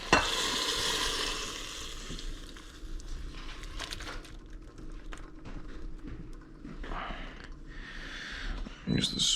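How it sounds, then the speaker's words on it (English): A spoon stirs and scrapes mushroom risotto in a cooking pot, a continuous close scraping and squelching with brief louder scrapes, under a faint voice in the background. "Use the spoon to get the rest of that out."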